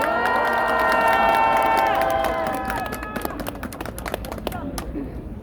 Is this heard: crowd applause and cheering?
yes